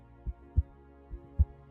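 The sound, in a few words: heartbeat sound effect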